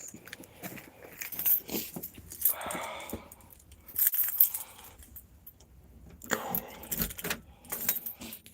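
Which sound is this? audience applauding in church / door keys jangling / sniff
door keys jangling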